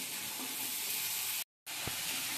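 Masala roasting in hot oil in a pan for a Kolhapuri chicken curry, a continuous loud close sizzle that cuts out briefly partway through, with no talk.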